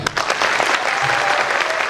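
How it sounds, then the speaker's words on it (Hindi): Loud, dense applause from an audience at a business training seminar, a steady wash of many clapping hands for the whole short stretch with no pause. "इनके लिए जोरदार तालियां"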